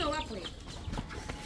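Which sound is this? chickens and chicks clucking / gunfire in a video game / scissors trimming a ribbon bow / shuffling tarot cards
chickens and chicks clucking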